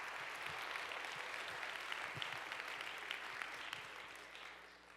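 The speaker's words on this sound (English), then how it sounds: "one more round of applause" A steady round of applause from a Dartmouth welcome audience for first-generation students, sustained even clapping throughout at moderate loudness.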